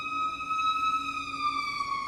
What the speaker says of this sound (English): Is the ambulance coming for me?